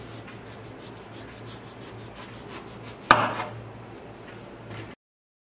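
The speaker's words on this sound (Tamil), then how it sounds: "2 பக்கம் இந்த மாதிரி கட் பண்ணிவிட்டு" Knife slicing through a musk melon on a board: a steady soft rubbing scrape for several seconds, with one sharp louder cut near the end, close and alone.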